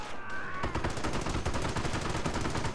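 Rapid gunfire rattles through a Company of Heroes battle, a dense, loud stream of shots repeating steadily after a brief opening with a faint tone.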